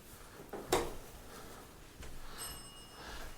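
A motion-triggered alarm bell used in ghost hunting rings upstairs, a faint, distant metallic ring with a sharp strike early on and a brief high tone later, heard alone against room noise.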